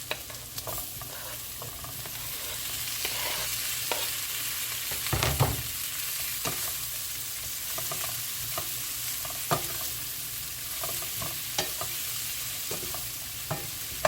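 Beef and vegetables stir-fried Jamaican style in a hot pan, a steady loud sizzle broken by frequent utensil scrapes and stirring clacks, close up and uninterrupted by speech.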